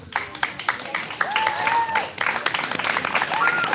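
Audience at a college event applauding finalists: dense crowd clapping throughout, loud and close, with a voice speaking over the applause and whoops rising from the crowd.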